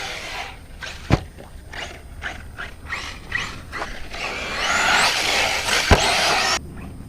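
A Losi SCTE 4S RC truggy tears around nearby, its electric motor whining and rising in bursts, with crunching gravel and a couple of sharp knocks as it bounces, building to a sustained loud run before cutting off abruptly.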